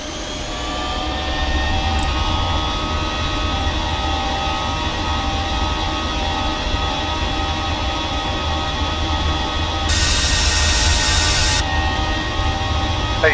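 A PMDG 737-800 in the Prepar3D flight simulator on its takeoff roll, with steady loud jet engine roar and whining tones building and holding, plus a brief burst of hiss near the end.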